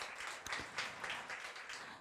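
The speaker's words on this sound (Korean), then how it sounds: "다시 한번 큰 박수 부탁드립니다" Audience applause in a hall at a youth career-experience results presentation in Seoul, faint, dense and steady clapping from a crowd lasting about two seconds with no voices on top.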